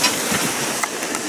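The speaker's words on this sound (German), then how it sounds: "haben Windstärke 6. Die Bedingungen sind nicht so schlecht, aber es ist schon ganz schön viel Wind für den Anfang" Strong force 6 wind on a sailboat at sea on an ocean passage from Tahiti to New Zealand, a loud, steady broadband rush of gusting wind and water, heard alone.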